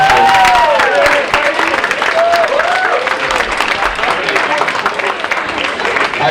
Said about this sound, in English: Let's just give a big round of applause for these fine